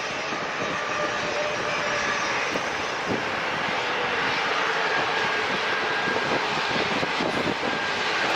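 A jet airliner rolls down the runway at San Diego International Airport, its engine roar steady, broad and loud for the whole stretch, with no voices over it.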